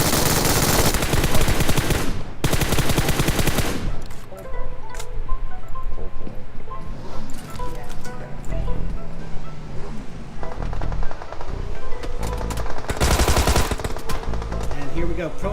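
Bursts of MG3 machine gun fire in a PUBG match, loud repeated volleys in several clusters over a busy game soundscape with other gunfire and movement.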